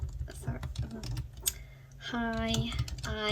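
Quick bursts of keystrokes on a computer keyboard as a Facebook message is typed, clicking irregularly while a person talks over them.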